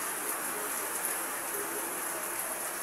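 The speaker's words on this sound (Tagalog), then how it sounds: "Ang lakas ng ulan dito sa Cavite City." Heavy rain in Cavite City pours as a steady, dense hiss with no breaks, even and unchanging throughout at a moderate level.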